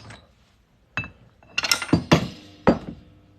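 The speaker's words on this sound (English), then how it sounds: "So when we punch a hole through it, it'll be right in the middle." A hole is punched through a silver Maine quarter coin in a centering jig: a few sharp metallic clinks and thunks, spaced unevenly and struck close by after a quiet start, with no speech.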